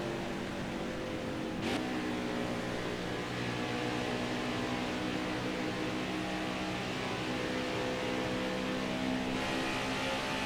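A NASCAR Heat 5 race car engine holds full throttle in the video game, a loud, steady high-pitched drone that barely wavers, with no one speaking.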